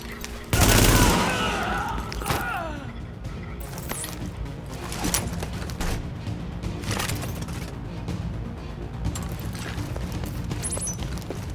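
Gunfire in the video game Tom Clancy's The Division opens with one loud, close blast, then continues as a long stretch of rapid, steady shots under a voice.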